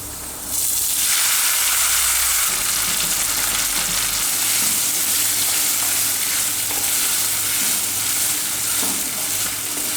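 Cooked mutton liver tipped into ghee with browned onions and curry leaves, breaking into a loud close sizzle that then holds steady with light stirring scrapes, no talk.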